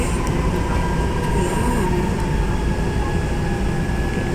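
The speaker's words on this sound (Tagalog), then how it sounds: "Nasa tunnel pa rin pala kami, mga kapalang. Medyo mahaba-haba yung tunnel." An LRT train runs through a long underground tunnel, a steady loud rumble of wheels and car noise with faint high squeals, continuous throughout with a brief voice heard once.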